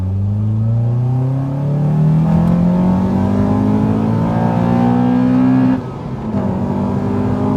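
A Honda Civic Type R FD2 with a K20 engine accelerating at full throttle in second gear, its loud engine note climbing steadily in pitch toward redline, then dropping sharply at a gear change, heard close from inside the car.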